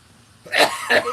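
A single short, close cough in two quick bursts, a rough throaty sound with no talking.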